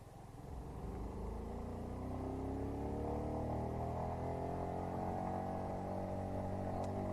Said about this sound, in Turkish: Şöyle bir çalıştıralım hemen motoru.